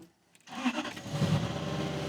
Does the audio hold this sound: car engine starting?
yes